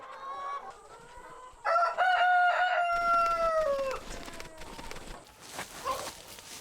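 Chickens on a small eco-friendly forest farm clucking, with a rooster's long crow rising loud and close in the middle, then a busy mix of hen calls and farmyard rustle.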